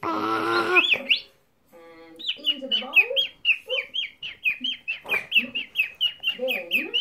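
A chicken clucks and chirps in a steady run of short, close calls, with a brief louder squawk at the start and a short pause before the repeated clucking resumes.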